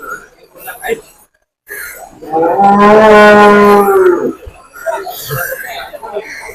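A single loud, drawn-out moo from cattle at the Perumpilavu livestock market rings out close by for about two seconds, with people talking before and after it.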